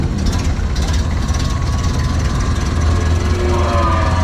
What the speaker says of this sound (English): make sure it's out of gear, turn the fuel on, adjust the carburetor full open, retard the ignition, give it some gas with the hand throttle